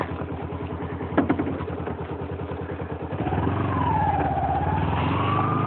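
A fuel-injected motorcycle engine idles close by with a steady, low pulsing throb that grows louder partway through, and a distant siren wails faintly in the background.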